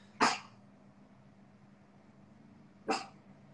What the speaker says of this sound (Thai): ทำไมมันอยู่ดีก็เห่าวะ